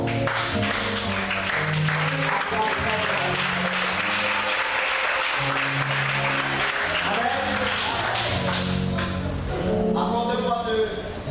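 A church congregation claps and cheers loudly in praise, a dense sustained wave of applause and shouted acclaim mixed with voices that swells again near the end.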